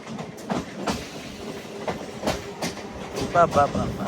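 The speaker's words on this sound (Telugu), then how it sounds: "ఆ జంక్షన్ రైల్వే స్టేషన్లో వచ్చే ట్రాక్ సౌండ్లు ఉంటాయి" MEMU passenger train wheels clatter rhythmically over the rails at Venkatachalam Junction station, with repeated clicks and thumps, a brief squeal near the end and some indistinct voices underneath.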